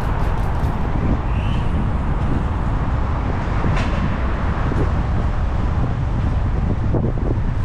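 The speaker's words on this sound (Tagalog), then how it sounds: "Medyo malakas ang hangin." Strong wind roaring and buffeting the microphone without pause during a group bicycle ride in Budaiya, Bahrain, with a low rumbling din of passing traffic underneath.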